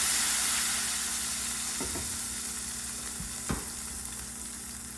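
Asafoetida and spice paste sizzle and crackle steadily in hot oil in a pan, with a couple of brief spoon clinks and stirring knocks over the frying.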